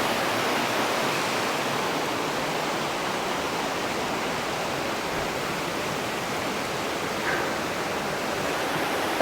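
A waterfall pours down a cliff on Mt. Baldy, a loud, steady broadband roar of rushing water that stays constant throughout, close by with no voices over it.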